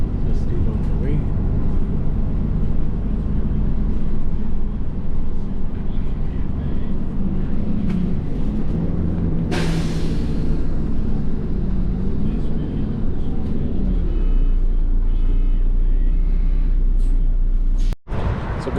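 Steady low engine rumble and road noise fill the inside of a moving bus travelling through Bahrain Financial Harbour, continuous and fairly loud, with a brief sharp drop near the end.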